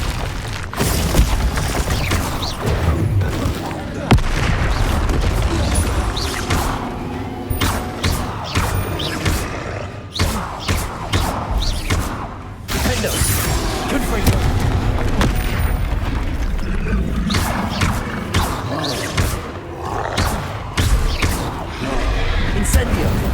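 Hogwarts Legacy spell casts and explosions in rapid succession, booming blasts and crackling magic bursts layered over a continuous loud game soundscape, with a voice calling out repeatedly throughout.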